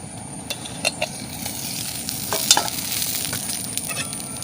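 Potato rava fry cooks in oil, with steady sizzling close up and a few sharp clinks and scrapes as the pieces are turned, with no voices.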